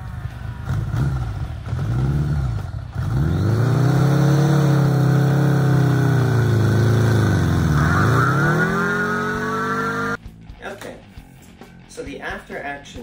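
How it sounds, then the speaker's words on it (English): A motorcycle roars off at full throttle while being held back by a man, a loud close engine climbing in pitch, dipping and surging again before cutting off abruptly, with voices and crowd noise after. "holding back the motorcycle, taking off at full throttle"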